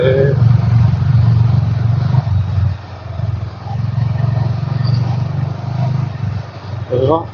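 A small auto rickshaw engine starts and idles with a steady low putter, loud and close, with a brief rev near the end and voices talking over it.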